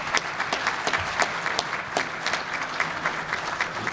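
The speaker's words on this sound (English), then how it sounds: "So let's give our staff a big round of applause." An audience at a Hall of Fame induction ceremony applauds the staff, with dense, steady clapping throughout and no one speaking.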